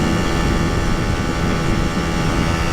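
A Honda Dream 50 race replica motorcycle engine screams at a constant high rev near 11,000 RPM, a loud, dense, unbroken drone heard from close by with no talk.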